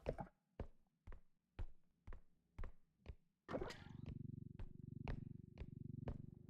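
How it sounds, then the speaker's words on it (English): A strange cat-like creature in the game R.E.P.O gives a low, sustained rumbling growl, preceded by a run of evenly spaced soft thumps, all faint and heard alone. "Ma, there's a weird cat outside."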